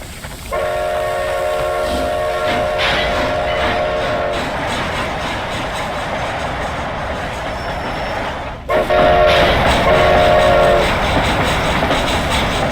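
A moving train in the Undead Nightmare video game rumbles steadily and loudly, with two long, harmonic horn blasts sounding over the continuous rolling noise.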